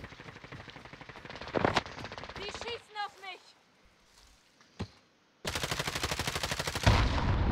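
Bursts of automatic gunfire in Call of Duty Warzone: a sustained rattling volley, a few isolated shots and brief speech between them, then another loud rapid burst near the end.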